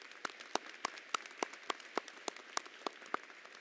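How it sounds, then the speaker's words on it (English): An audience at a university presidential inauguration applauds with sparse, evenly spaced claps, each distinct and moderately near, over a soft background patter. "please give her a round of applause"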